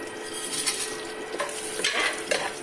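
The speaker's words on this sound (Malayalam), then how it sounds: "കടുക് ഏകദേശം പൊട്ടിക്കഴിഞ്ഞു." Mustard seeds crackle and sizzle in hot oil in a pan as chana dal and urad dal are about to go in, a soft steady fry with scattered pops and a few stirring scrapes.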